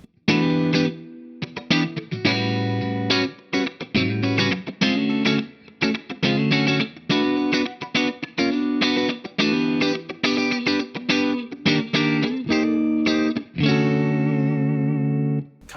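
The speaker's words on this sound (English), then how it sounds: "let's hear what that sounds like if we use a little bit of compression" Electric guitar played through a Hamstead Artist 60+RT amp with compression, a sequence of rhythmic chords and single notes with full sustained harmonics, brief gaps between strums, ending in a longer ringing chord, no voice.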